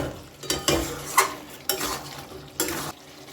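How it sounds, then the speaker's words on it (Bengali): Meat curry being stirred and fried in a pan over a high gas flame, with several distinct scraping strokes of a spoon against the pan over a low, steady sizzle. "এবার এটাকে গ্যাসের ফ্লেমটা একটুখানি হাইতে করে ভালো করে আরেকটু কষিয়ে"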